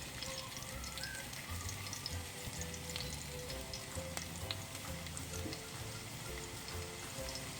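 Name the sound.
garlic and small onion frying in coconut oil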